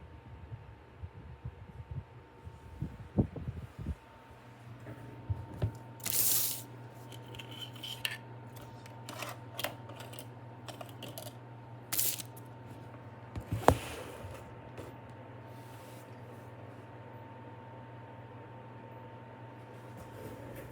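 An electric fan runs close by in a quiet room, giving a steady low hum and soft airy hiss throughout, broken by scattered clicks, rustles and handling knocks. No one speaks.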